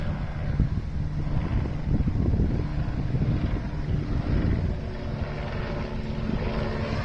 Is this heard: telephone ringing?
no